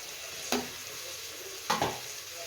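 Coriander powder, coriander leaves and mint hit the hot mutton kheema ball sambar with the stove switched off. A low hiss is broken by two sharp clinks of a spoon against the pot.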